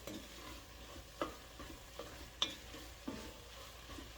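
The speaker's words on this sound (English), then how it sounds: "and I had a 1/4 teaspoon of black pepper to this as well. Stir that together." A pot of chili seasoned with black pepper is stirred with soft, faint scrapes and taps of a spoon at irregular intervals over a quiet, low simmer.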